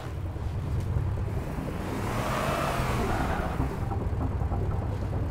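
A vehicle driven in the game Halo 3: ODST rumbles and whirs steadily up close, its engine note swelling and sweeping through a rev in the middle before settling back, with no talking.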